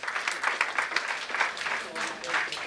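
Steady round of applause from a seated audience at a chartered accountants' day celebration honouring senior members, continuous dense clapping for a few seconds with no voices over it.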